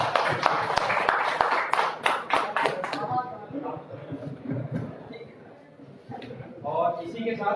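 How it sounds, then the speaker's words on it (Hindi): An audience at a business orientation event in Agartala gives a brief burst of clapping, dense and fairly close for about three seconds, then fades under continuing talk and crowd murmur. "ताली होना चाहिए।"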